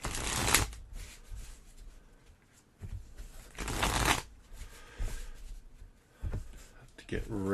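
Playing cards for a solo board game session get shuffled in several quick bursts, close and crisp, with quieter gaps between riffles while a voice talks softly underneath.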